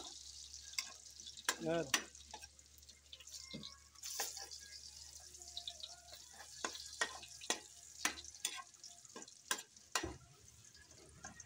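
Garlic sautés in a pan with a soft, faint sizzle under scattered clinks and scrapes of a utensil stirring, and a brief voice in the background.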